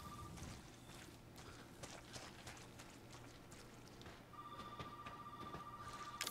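A telephone rings inside the Resident Evil 7 horror game, a faint electronic trill that repeats steadily beneath a dull ambient hum, its sustained ring tone clearest in the latter half.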